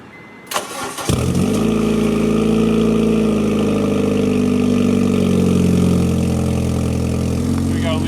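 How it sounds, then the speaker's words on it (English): A Honda Civic with a new cheap cat-back exhaust cranks briefly on a cold start, fires up with a loud roar, then settles into a deep, rumbling idle that continues steadily. "It's time for a cold start."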